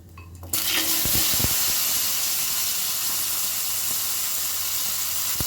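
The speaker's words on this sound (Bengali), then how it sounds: "এবার আমি এর মধ্যে আলুটা দিয়ে দিচ্ছি" Diced potatoes drop into hot tempered oil and erupt into a loud, sustained sizzle, with a few sharp clatters at the start as they hit the pan.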